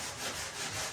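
Abrasive sanding scrapes across a bathroom surface in a brief, even back-and-forth rasp, close and fairly quiet, with no voices.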